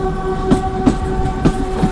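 An old passenger train runs between Unai and Waghai, heard from on board as a steady rumble and tonal hum with rhythmic clickety-clack wheel beats at regular intervals, loud and continuous.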